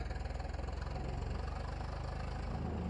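A tractor engine runs in the Farming Simulator 22 video game, a steady low throbbing idle with a fast regular pulse, fairly quiet and without voices.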